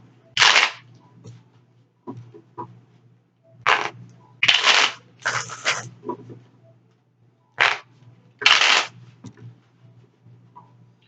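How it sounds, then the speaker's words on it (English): Tarot cards are shuffled in repeated quick riffling bursts, each a short crisp flutter, separated by pauses with faint handling noises and a low hum. "I will do 3 more shuffles."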